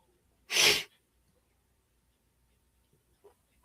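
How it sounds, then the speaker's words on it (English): One loud, abrupt allergy sneeze bursts out close by, followed by near silence and a couple of faint small noises. "my allergies is killing me today. Just sneezing and everything."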